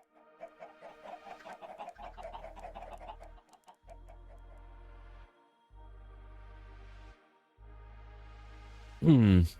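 Minecraft chickens clucking in short bursts over a steady low game drone, with a person talking nearby and a sudden loud sound at the end.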